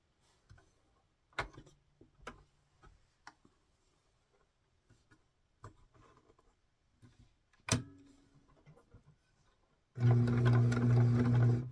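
A sewing machine zigzag-stitches inside the seam allowance of an 18-inch doll's 1904 walking dress. Scattered light clicks and handling come first, then a loud, steady, close motor whir runs to the end.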